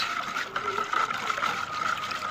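Water poured by hand into a container while pickling olives at home, a steady, close trickling splash running continuously without pause.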